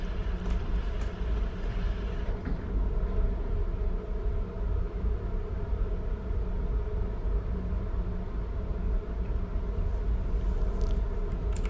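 A P-47 fighter's piston engine at maximum power in the combat flight game War Thunder drones steadily and loudly at a low, constant pitch with no break.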